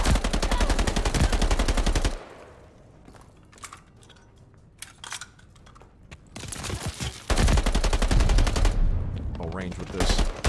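Loud bursts of rapid gunfire from a video game, with heavy firing at the start and again toward the end and quieter scattered shots between, under occasional talk.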